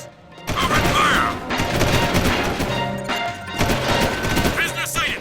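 Dense video game gunfire and explosive crashes from a PS3 title running on an emulator, loud and continuous across the whole stretch, with game voices shouting over the shooting.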